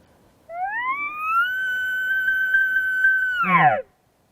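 A single long bugle from a distant bull elk in New Mexico: a rising whistled note that holds steady for a couple of seconds, then breaks into a short grunting, chuckling end, with no other sound around it.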